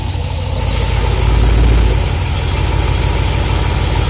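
A Chevrolet Camaro with an automatic transmission idles steadily up close, its low engine hum swelling slightly as the car is shifted into gear, with no talking.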